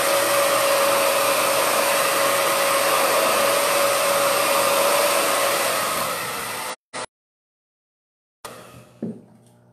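A hair dryer blows a loud, steady whir while drying patina paint on wooden crates, running for about seven seconds before switching off, followed by a few faint knocks and rustles.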